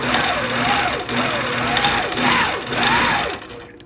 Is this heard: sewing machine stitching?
yes